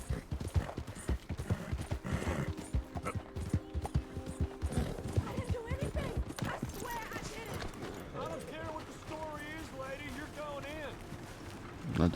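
Rhythmic hoof clip-clops from a horse in Red Dead Redemption 2, steady and fairly close, with occasional whinny-like tones and a person talking over them.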